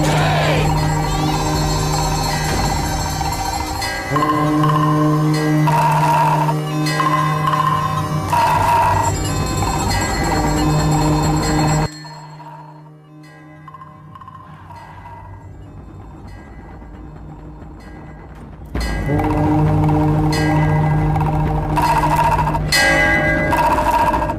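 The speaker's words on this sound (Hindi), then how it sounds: "घंटी और नगाड़ा बजाओ" Temple bell ringing with a nagara drum beating during worship, loud clanging overlapping tones that drop out for several seconds before the bell and drumming return at full strength.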